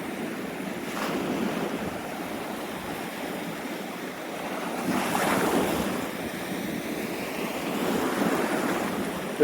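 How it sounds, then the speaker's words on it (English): Ocean waves wash in and out in slow surges, mixed with gusty wind buffeting the microphone. "There's nothing quite like the sounds of the ocean."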